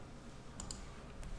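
Two quick mouse clicks close together, then a third a moment later, made while working in SketchUp software over a steady low background hum.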